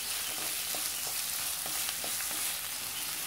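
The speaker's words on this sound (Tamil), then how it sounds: "நம்ம வெங்காயம், வெங்காயம் நல்லா கொஞ்சம் வதங்கணும்." Chopped onions frying in a pan for paneer butter masala, a steady continuous sizzle with faint stirring clicks, fairly close and alone.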